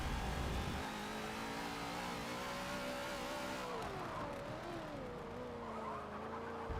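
A Mazda race car in Forza 7 roars at high revs close up, the engine pitch climbing and dipping through gear changes and cornering, with tyre noise underneath and no talking.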